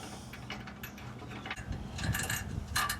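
Bolts are being fitted into a Ford Bronco gas tank ski plate, giving soft close-up ratcheting and metallic fiddling clicks at low level, growing slightly busier toward the end.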